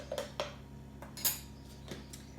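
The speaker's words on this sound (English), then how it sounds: "You can use a spoon to scrape out all the bits that are left in the bottom." Metal spoon scraping leftover soda bread dough from the bottom of a mixing bowl, a few separate clinks and scrapes spread out over a couple of seconds, close and fairly quiet.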